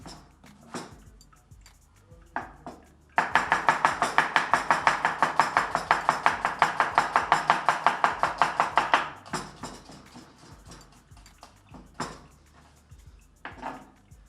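A knife slicing onions thinly strikes the board in a fast, even run of crisp taps for about six seconds, with a few scattered knocks and quiet handling before and after.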